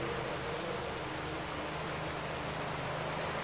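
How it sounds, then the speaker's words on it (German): Rain in the cycling game Pro Cycling Manager 2022 hisses as a steady, dense patter at moderate level, continuous and unbroken, with no voices over it. "Dazu auch noch Regen."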